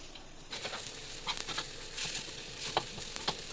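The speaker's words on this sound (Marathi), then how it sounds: "एकदम हळूहळू वैरायचं, उलटनं कंटिन्यू हलवायचं" Besan flour cooking over low heat in a pan is worked continuously with a spatula, giving a soft, steady sizzle. Repeated scraping strokes rise above it in an uneven rhythm, close and fairly quiet.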